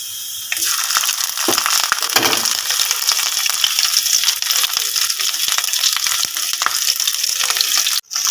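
Loud, continuous sizzling of onion, garlic and ginger frying in hot oil with scattered crackles and light scraping from stirring, close up, no voices.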